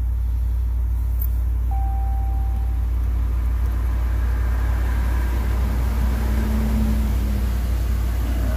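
A car engine idles after being started, a steady low rumble close by that holds constant throughout with no talking.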